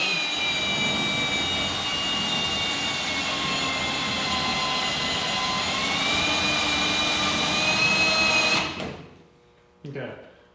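A power tool cuts rusty metal on a Mustang roof, a loud, sustained high-pitched whine and grind close by that cuts off abruptly near the end, followed by a short burst of tool noise.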